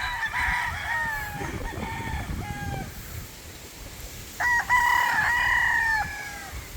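Roosters tied up at a farm keep crowing, with several long calls at moderate distance rising and falling over steady outdoor background noise, one crow following another and the later ones louder.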